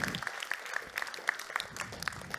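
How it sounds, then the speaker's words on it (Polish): An audience at a one-man comedy show applauds a volunteer invited onstage, a short burst of moderately loud clapping with a few distinct sharp claps. "Więc dajcie duże brawa dla Agnieszki."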